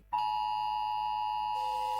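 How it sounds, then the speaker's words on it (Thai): A loud, steady emergency cell broadcast alert tone in Chiang Mai, Thailand, sounds continuously, with a harsh buzzing edge and a slight change in timbre near the end, no voices. "นี่คือเสียงแจ้งเตือนและข้อความที่ท่านจะได้รับในพื้นที่จังหวัดเชียงใหม่"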